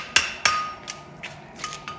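The flat face of a hammer slaps onto metal several times, two sharp ringing strikes followed by lighter taps, close and alone with no talking.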